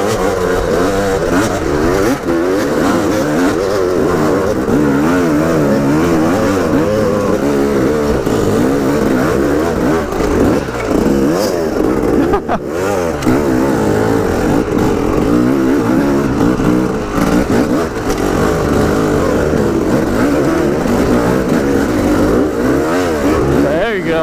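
A new motorcycle engine roars loud and continuous close by, revving up and down in repeated waves throughout.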